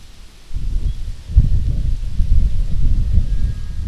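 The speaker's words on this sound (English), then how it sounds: "we're really getting some wind there" Strong wind blowing outdoors, gusting in from near-silence into loud, buffeting rumble against the microphone that stays heavy and ragged to the end, with no talk.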